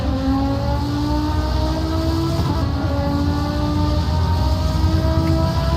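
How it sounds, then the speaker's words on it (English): On-board engine roar from an Audi race car in qualifying at Road America during an IMSA vintage championship round, a loud, sustained drone with strong layered harmonics and slowly shifting pitch, steady for the whole stretch with no talk. "As we watch now on board in the Audi. Very loud car here."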